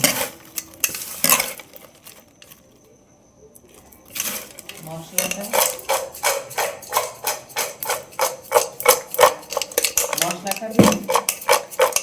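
Chanachur snack being mixed by hand with tamarind water in a metal bowl, with repeated clinking and scraping strokes in a steady rhythm after a brief quiet pause, close and fairly loud.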